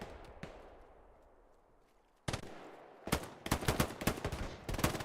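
Gunfire in a competitive console match of the WWII shooter Hell Let Loose on the Hill 400 map: after a faint lull, a single sharp shot is followed by rapid bursts of rifle and automatic fire, growing denser and louder.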